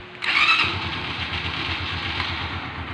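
A Yamaha XTZ 125 motorcycle engine cranks and catches, then settles into a steady, close idle with a rhythmic low putter and no voices.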